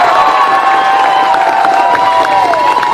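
Fans in a ballpark cheer and applaud the North Hudson Knights, state 3A men's baseball champions, in a loud, sustained roar of shouts, whoops and clapping, including children's voices, with a high tone running through it.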